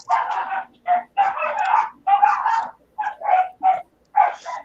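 Several dogs bark excitedly at the mail carrier, a burst of loud, close, overlapping barks and yips coming in quick clusters with short pauses between.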